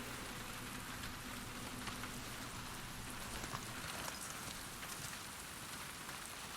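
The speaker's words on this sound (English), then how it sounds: "Seattle rain, baby." Steady, dense rain falls on surfaces in Seattle in The Last of Us Part II, a constant even hiss with no breaks and nothing else heard over it.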